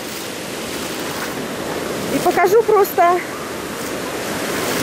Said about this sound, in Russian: как бушует океан, потому что издалека не видно.